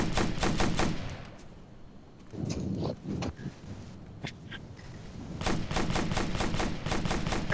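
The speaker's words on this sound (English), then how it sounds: "No, they are shooting at us." Rapid bursts of automatic gunfire from the video game Operation Flashpoint: Dragon Rising, loud volleys at the start and end with sparser single shots and distant cracks in between.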